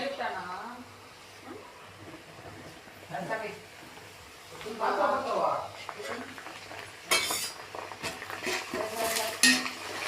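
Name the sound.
mukkirattai greens stirred into sautéed onions in pan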